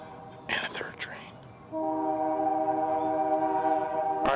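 After a few soft whispered words, a train horn sounds a long, steady chord that holds for several seconds at moderate distance.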